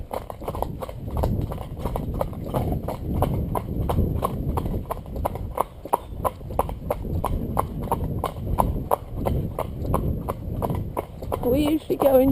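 A horse steps up from walk into a steady trot on an outdoor ride, hooves clip-clopping in an even, continuous rhythm for the whole stretch while a rider speaks over it.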